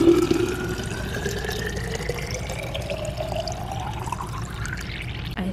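Water pours steadily into a container, the tone rising as it fills, close and continuous with no talking.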